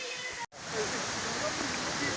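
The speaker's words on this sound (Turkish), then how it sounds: "ya şelale sesleri geliyor" A waterfall in the Yedigöller forest area of Turkey gives off a steady, broad hiss of falling water. A brief dropout interrupts it early, and a voice may be faintly present underneath.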